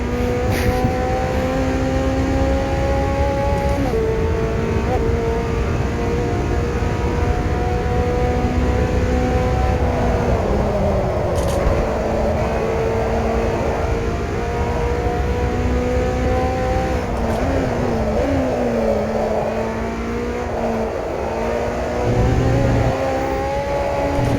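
A Camaro lapping a race track holds a continuous loud engine drone for the whole stretch, with revs climbing and dipping through gear changes and a whirring, steady roar, no voices heard.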